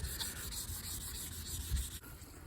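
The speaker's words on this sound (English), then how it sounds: "I'm starting off by wet sanding with 600 grit sandpaper" Continuous wet sanding of a Nissan 370z headlight lens with 600 grit sandpaper: a close, steady scratchy rubbing with a gentle back-and-forth pulse, heard alone.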